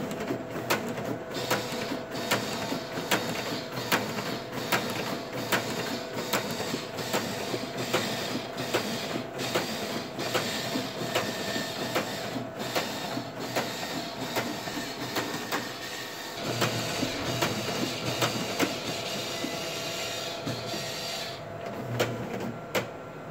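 A Xante EnPress envelope printer runs through a long batch of envelopes with a steady, rapid, rhythmic mechanical clatter, close and unbroken, shifting slightly in tone partway through.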